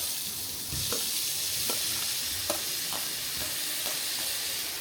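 Three tomatoes frying with nuts and raisins in a pan, a continuous bright sizzle with a few soft stirring knocks at intervals, close and steady with no voices.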